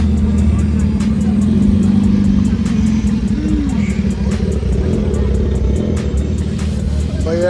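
A Lamborghini arriving at an outdoor car meet, its engine giving a loud, steady, deep rumble that lasts the whole stretch, with faint crowd sounds mixed in.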